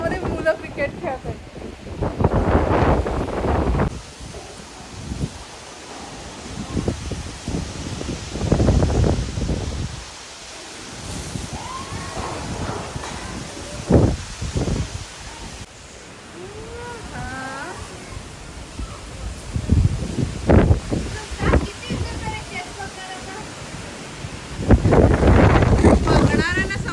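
Strong storm gusts roar through garden trees and rustle the leaves, rising and falling in loud surges over the microphone, with someone talking between the gusts.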